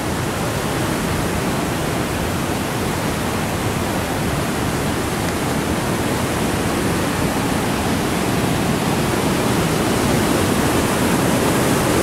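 Floodwater rushing down the Huron River near a railway crossing, a dense, unbroken roar like a waterfall that holds loud and even throughout, with no voices.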